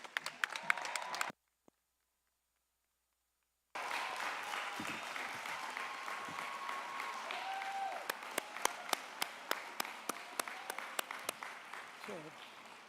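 Applause from a university graduate commencement audience fills the hall, cut by a few seconds of silence, then returns as a broad wash with sharp, close individual claps and a whistle or cheer threaded through.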